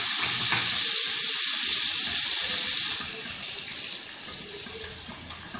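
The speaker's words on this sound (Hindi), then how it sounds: "अब इसमें अदरक लहसुन का पेस्ट डाल देते हैं।" Ginger garlic paste sizzles in a pan with golden frying onions for a dhaba-style masoor dal, a loud, steady hiss and crackle that eases slightly after a few seconds.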